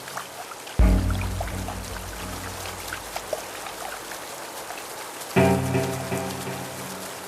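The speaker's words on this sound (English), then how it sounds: "It has been raining throughout November and December." Steady rain falls in the rainy season on the plains beside the Talek River, a continuous patter on surfaces, with two sudden heavier bursts swelling in and then easing off.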